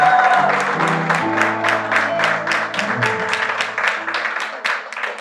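A church congregation claps in a steady rhythmic beat, loud and close, blended with sustained music and scattered cheering from the crowd.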